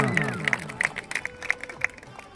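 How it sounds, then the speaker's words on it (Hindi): Crowd at a village wrestling competition applauding, scattered sharp claps rising over a murmur of voices and a raised spoken voice on a loudspeaker. "जोरदार ताली होनी चाहिए"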